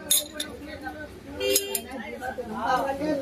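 Metal clutch plates and a pressure plate are stacked onto a clutch hub, producing a string of bright metallic clinks and scrapes at close range, with speech running underneath.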